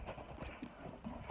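A few soft, irregular hoof clops from a young mare sound close by but faintly, quick uneven footfalls shuffling over a quiet background.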